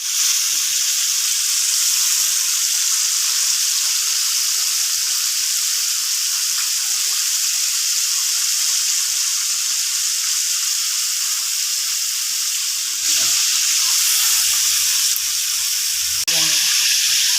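Fried chicken coated with egg sizzling hard in hot oil, a loud continuous crackling hiss held close throughout, with a few soft clanks of a utensil near the end.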